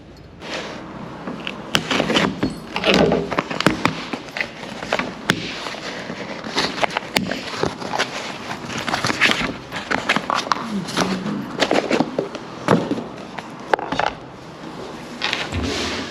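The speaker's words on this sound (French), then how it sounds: "On va passer déjà au déballage du produit, comment je l'ai reçu." Someone unboxes a CarPuride motorcycle GPS, with close cardboard and plastic packaging handled in a steady run of crinkles, clicks and snaps over about sixteen seconds, without talking.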